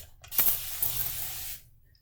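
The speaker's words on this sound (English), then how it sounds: "I'm going to go ahead and spray" A single steady spray burst of water hisses for about a second, the sharp misting sound of a spray bottle close up, then fades to quiet.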